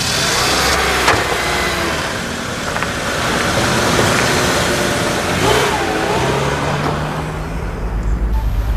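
A car engine revs and pulls away close by, a loud, steady rumble that swells and then eases as the vehicle drives off, heard without speech.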